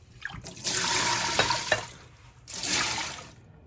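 Running water from a tap splashes over lentils being washed in two bursts, with a short pause between them, close and fairly loud, with no one speaking.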